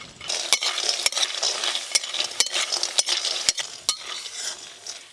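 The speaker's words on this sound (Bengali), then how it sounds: "বড়িগুলো লাল লাল করে ভেজে নিয়েছি।" Lentil dumplings (bori) frying in a pan on a village clay stove, a soft steady sizzle punctuated by sharp utensil taps and scrapes roughly every half second, no talking.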